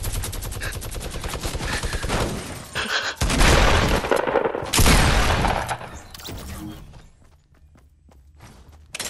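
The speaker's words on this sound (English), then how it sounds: "Mini gun coming to my barn" Rapid minigun fire in the video game Fortnite, loud sustained bursts with heavy crackling blasts that cut off and fade into quieter in-game ambience, with occasional footsteps.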